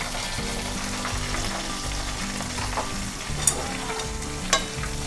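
Garlic and other ingredients fry in a pan of rendering homemade lard, with a continuous close sizzle, a low steady hum and a couple of sharp spattering pops.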